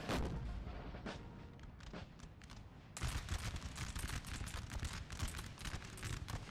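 Napoleonic-era artillery booms and musket volleys in the Total War 3 strategy game, a dense, continuous barrage of overlapping blasts that grows louder and sharper after a few seconds, with no talk over it.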